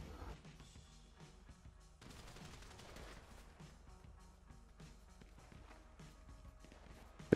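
Sustained gunfire in a Grand Theft Auto V shootout: dense, rapid shots and bursts over a steady game background, with a louder crack right at the end.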